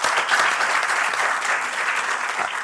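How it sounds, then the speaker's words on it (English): An audience claps after a panel discussion on the role of religion in society, steady dense applause from a crowd in a hall, sustained at even strength throughout with no voices over it. "Please give them a clap."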